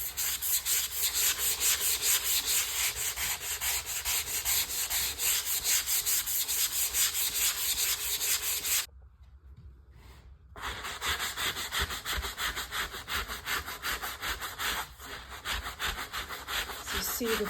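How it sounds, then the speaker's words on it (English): Steady hand sanding of drywall, a continuous rhythmic scratchy rubbing of strokes close by, pausing briefly partway through before resuming. "I'm gonna go ahead and start sanding this down."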